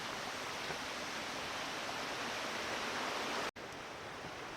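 Waterfall at Fallingwater Cascades along the Blue Ridge Parkway, a steady, dense broadband roar of falling water close by, continuous throughout apart from a momentary dropout near the end, with no voices.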